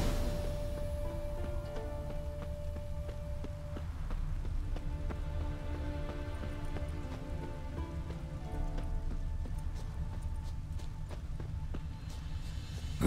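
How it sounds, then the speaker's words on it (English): Steady rain falls in a Witcher 3 game scene, a soft continuous patter with scattered drops, while faint hoof clops and ambient game sounds sit underneath. "Looks like rain."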